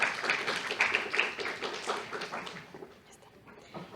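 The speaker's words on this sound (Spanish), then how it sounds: "La recibimos con un fuerte aplauso," Applause from a seated audience welcoming a head-and-neck surgeon before a medical lecture, a quick patter of hands that fades out after about two and a half seconds into a quiet room.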